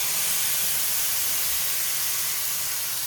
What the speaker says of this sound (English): you hear that sizzle, I mean, this thing's ready to go.